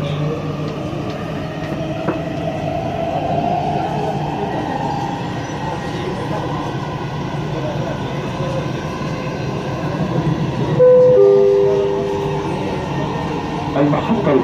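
Dubai Metro train running between stations toward Emirates Towers, a steady loud rumble and hum of the carriage throughout, with a brief rising whine and tonal squeal near the end as it moves along the track.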